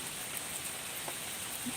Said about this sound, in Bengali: এখনও গুড়ি গুড়ি বৃষ্টি হচ্ছে